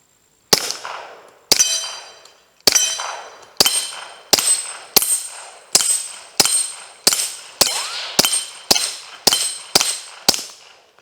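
Suppressed gun firing thirteen sharp metallic shots in a steady rhythm, each crack ringing briefly before the next, loud and close with no talking.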